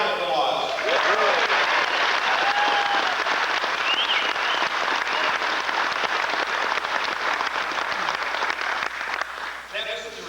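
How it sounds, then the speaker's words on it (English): A large audience claps steadily for the operators, a dense, sustained round of applause at full volume that holds for about ten seconds before thinning at the end, with faint voices mixed in. "And to you, a big round of applause."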